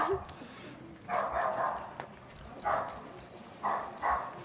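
Neighbours' dogs bark from down the street, several short bursts in separate clusters, distant and moderately loud over quiet outdoor ambience from a balcony.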